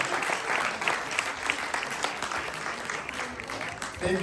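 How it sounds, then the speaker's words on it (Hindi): A crowd applauds for a performing team at a Mahavir Jayanti event, steady dense clapping with some cheering, fairly loud and continuous throughout. "उनकी पूरी टीम के लिए एक बार जोरदार तालियां होगा"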